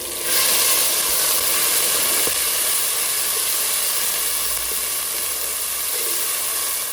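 Ginger, garlic and chilli hitting hot oil with roasting cumin seeds for Punjabi aloo gobi, a loud, steady sizzling hiss that starts abruptly and holds evenly to the end.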